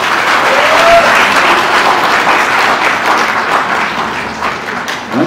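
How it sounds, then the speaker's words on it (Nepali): A wedding crowd claps after the groom slips a ring onto the bride's left hand. The applause is loud, dense and sustained for several seconds, filling the space with little letup. "हामी ताली बजाउनु पर्छ"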